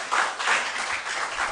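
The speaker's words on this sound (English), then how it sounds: "Round of applause to them, please." A quiz-show audience applauds a school team, a short burst of many hands clapping at moderate volume, steady and diffuse throughout.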